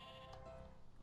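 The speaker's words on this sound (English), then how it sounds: "Come on, gray sheep." Faint, brief bleats from a gray sheep in Minecraft sound under steady low background noise.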